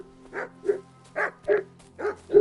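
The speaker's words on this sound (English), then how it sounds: "What's that dog making such a fuss about?" A dog in the video game Kingdom Come: Deliverance 2 barks six times in an even rhythm, each a gruff woof at moderate distance, with no talk over it.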